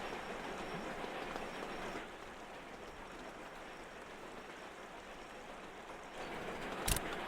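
Passenger trains run in the Sweet Transit railway game as a steady, continuous rolling rumble that dips slightly midway and swells again, with a brief click near the end.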